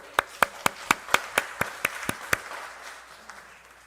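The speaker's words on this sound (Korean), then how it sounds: "영광의 박수를 하나님께." A church congregation claps in unison during a Sunday service: about ten sharp, evenly spaced claps, fairly faint, followed by a fading room wash.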